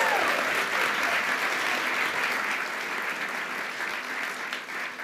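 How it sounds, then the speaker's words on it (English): Sustained audience applause at a CreativeMornings talk in New York, a steady wash of many hands clapping at even loudness for the full length with no speech over it. "Can we give another round of applause for Amel?"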